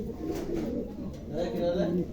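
Mundian pigeons, a big full-bodied pair, cooing softly and continuously nearby, with someone talking over them.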